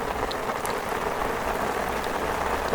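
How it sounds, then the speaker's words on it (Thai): Steady rain falls outdoors at a spot where someone is fishing for Nile tilapia in the wild, a dense, even hiss of drops with occasional louder spatters close by and no voices. "ตากฝนครับผม"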